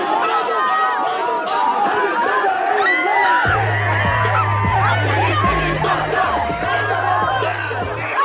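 A dense concert crowd at a show at UIUC chatters and whoops throughout, with loud music kicking in partway through under the steady roar of voices.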